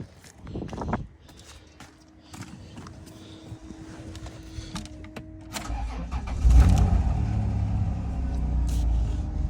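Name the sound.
auction vehicle engine starting after jump pack hookup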